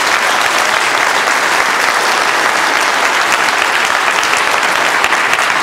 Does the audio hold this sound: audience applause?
yes